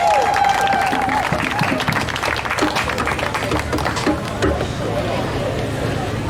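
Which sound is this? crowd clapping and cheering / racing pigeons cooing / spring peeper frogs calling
crowd clapping and cheering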